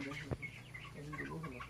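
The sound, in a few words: frightened birds, likely chickens, reacting to a monkey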